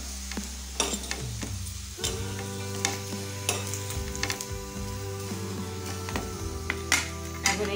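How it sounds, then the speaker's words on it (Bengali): Potatoes and tomatoes frying in a pan, a steady close sizzle with repeated sharp clinks and scrapes of a spatula stirring, a low hum running underneath. "এখন এই যে টমেটো, এইগুলো একটু ভেজে নেব"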